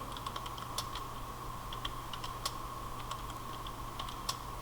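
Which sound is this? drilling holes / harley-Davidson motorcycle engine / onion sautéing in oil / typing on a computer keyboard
typing on a computer keyboard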